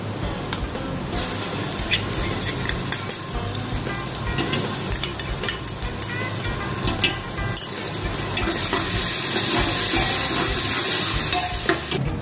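Ginger-garlic paste blended with coriander and green chillies hits a hot pan for prawn pulao. It sizzles loudly and continuously, with stirring scrapes, and the frying hiss swells toward the end.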